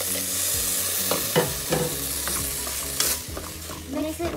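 Puree poured into a hot pan for celery fried rice with brown long grain rice sizzles and crackles while a utensil stirs and scrapes, steady close frying noise with no talking.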